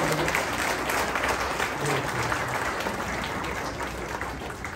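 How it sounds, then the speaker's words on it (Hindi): An audience at an entrepreneurship talk show and award ceremony breaks into loud, sustained applause, a dense field of clapping hands that fills the room steadily for the whole stretch without letting up. "जोरदार इन सबके लिए तालियां हो जाए पहले सबसे"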